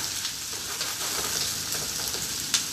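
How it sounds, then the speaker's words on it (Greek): Onions frying in a pan for caramelized onions, a steady close hiss and crackle of sizzling oil with faint occasional pops and stirring, heard alone without talk. "και περιμένουμε να τσιγαριστούν."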